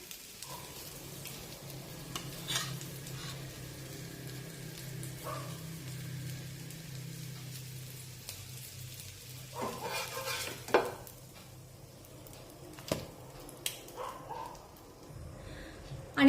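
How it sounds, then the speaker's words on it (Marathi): Egg-and-bread patties fry in a pan with a soft, low sizzle, broken by occasional clinks and scraping sounds from utensils, fairly quiet throughout. "बाजूने छानपैकी हे फ्राय झालेले आहे"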